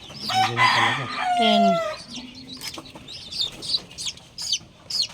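Newly hatched native chicks from an incubator cheep in rapid, high, overlapping peeps, loud and close, with brief pauses between bursts and no talk.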